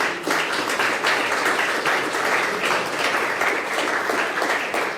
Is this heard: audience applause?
yes